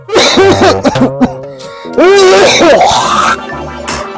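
Harsh, explosive coughing bursts repeat close up, mixed with strained vocal sounds and bits of talking.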